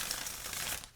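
A deck of tarot cards shuffled briefly, a dense papery riffle and crinkle up close, steady for about a second before tailing off.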